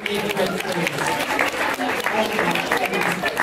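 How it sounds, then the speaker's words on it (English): Steady applause from an audience fills the scene, a dense wash of clapping with a voice speaking over it. "give them all a nice round of applause"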